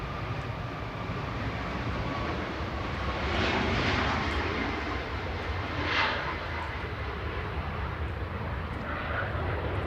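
A SunExpress Boeing 737 Max 8 departs Manchester Airport, its engines making a sustained rumbling roar that swells and fades gently over about ten seconds, heard at a moderate distance with no voices.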